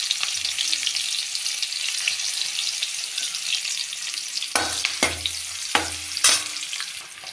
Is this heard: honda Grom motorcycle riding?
no